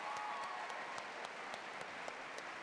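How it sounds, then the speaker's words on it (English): Audience applause at a science exhibition opening ceremony, a soft, steady wash of many hands clapping, heard faint and distant with occasional sharper individual claps. "That normally gets a round of applause."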